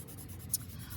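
A chalk pastel pencil drawn across paper gives a faint, steady, dry scratching stroke with one brief soft tick partway through, close and quiet with no voices.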